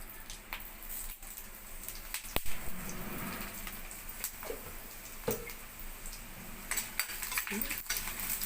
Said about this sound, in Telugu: ఎండుమిర్చి మాత్రం దోరగా వేయించుకోవాలండి